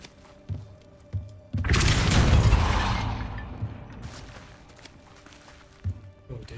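A Depulso force spell impact in Hogwarts Legacy lands as one loud burst of rumbling energy that swells and then fades over a few seconds, with soft footsteps and thumps before and after.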